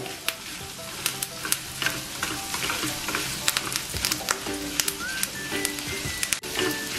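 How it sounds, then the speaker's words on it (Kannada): Dried red chilies and curry leaves fry in a little oil over a low flame, with a continuous crackling sizzle and frequent sharp pops and clicks from the stirring, fairly close and alone. "ಒಣಮೆಣಸಿನ್ಕಾಯಿ ಹಾಕಿದ್ರೆ ಸ್ವಲ್ಪ ಎಣ್ಣೆ ಹಾಕ್ಕೊಂಡ್ಬಿಟ್ಟು ಹುರ್ಕೋಬೇಕಾಗತ್ತೆ"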